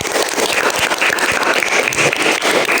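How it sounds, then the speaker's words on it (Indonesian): Students in a fifth-grade classroom clap loudly for the mouse group, a close, dense burst of small hands clapping together with some voices mixed in. "Tepuk tangan untuk kelompok tikus."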